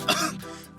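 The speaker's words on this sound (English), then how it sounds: "just a bit of cough" A single short cough, close and moderately loud, followed a moment later by the start of another, with no talk over it.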